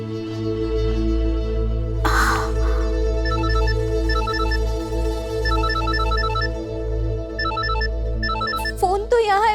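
A telephone rings repeatedly inside a house, its electronic trill sounding in regular bursts over a steady low hum and background music, with a brief voice near the end.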